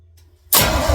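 The engine of a 1976 Chevy squarebody truck cranks to life after a quiet moment, then roars loudly and steadily up close as it revs.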